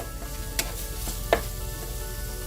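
Ground pork seasoned with paprika sizzles in a pan with a steady frying hiss, broken by a couple of sharp spoon taps and scrapes as it is mashed and broken up.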